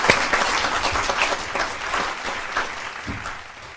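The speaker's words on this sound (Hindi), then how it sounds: "जोरदार तालियों से अभिनंदन करते हैं।" An audience at a Hindi poetry recital bursts into applause to welcome a speaker, a full burst of clapping that gradually thins and fades toward the end.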